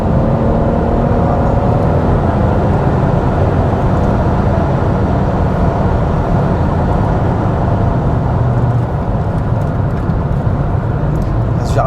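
A BMW M140i driven fast on the Nürburgring, engine and road roar loud and steady throughout at around 180 km/h, with a voice faintly under the noise.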